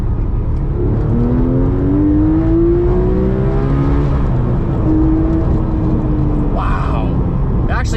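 Porsche 997 GT3 RS with its 4.0-litre engine revs hard on a drive, the pitch sweeping up quickly and loudly through the rev range with a steady close engine roar throughout.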